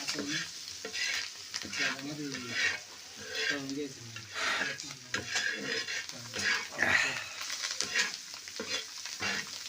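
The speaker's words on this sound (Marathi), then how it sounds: "आजीने आता टाकलेले आहे कोथिंबीर गावठी आणि ते व्यवस्थित हालून घ्यायची" Home-style village coriander being stirred and fried in a pan for Maharashtrian zunka, with steady sizzling and repeated scraping strokes of a spoon, close and loud.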